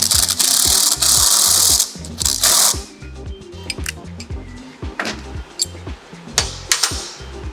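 A 17 mm axle nut is run onto a motorcycle front axle with a ratcheting wrench while a 15 mm tool holds the back side, on a Yamaha TT250 build. Close, rapid ratchet clicks come in uneven bursts, first dense and loud, then sparser.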